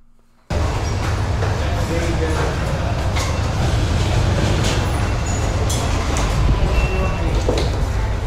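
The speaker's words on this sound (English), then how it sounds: "This is the train station." Busy train station concourse in Liverpool: a steady, loud wash of crowd murmur, rolling rail and station noise with occasional hissing brakes and clatter, starting abruptly after a brief quiet moment and holding level throughout.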